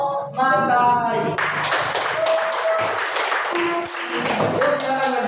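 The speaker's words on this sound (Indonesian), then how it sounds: "Ayo, tepuk tangan untuk kelompok matahari." Clapping from a classroom audience for a student group during a practical exam, a run of irregular, close hand claps mixed with voices talking and singing over them throughout.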